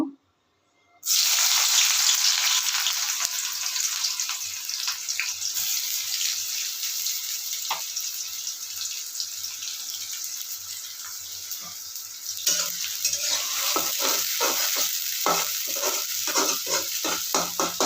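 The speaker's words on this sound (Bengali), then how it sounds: "তেলটা একটু ভালো গরম হয়ে গেছে এবার পেঁয়াজ দিলে ভেজে তুলে নেব" Onions drop into hot oil for dopiaza, bursting into a loud, continuous frying hiss that carries on steadily, with stirring clinks growing more frequent toward the end and no voices.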